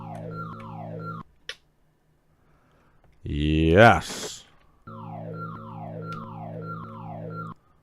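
Electronic alarm from the Amiga game Covert Action blares in repeating pulsed, falling tones, in two stretches split by a brief quiet gap, a short click and a burst of other game sound, with a single word spoken.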